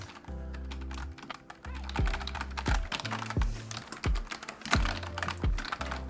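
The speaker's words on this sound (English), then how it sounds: "It makes a nice sound when typing." Rapid clicking of keys on a budget Red Dragon computer keyboard, close up, with bursts of typing and brief pauses over a low background hum.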